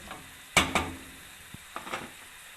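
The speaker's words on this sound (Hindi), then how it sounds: "इसे अच्छे से भून लेंगे।" Chicken for achar gosht being fried in a pan, with a few sharp spatula knocks and scrapes over a faint, steady sizzle.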